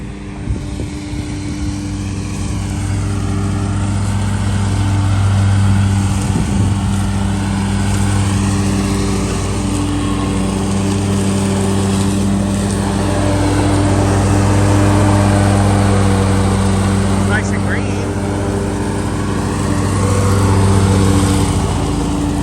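A lawn mower cuts grass on a lawn, a loud, close, continuous engine drone with a steady hum that swells slightly and eases as it moves, no talk.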